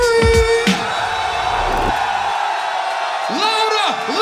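A live hip-hop concert crowd at the Middle East club in Boston screams and cheers in a sustained roar, with loud shouts from the performer cutting in over it.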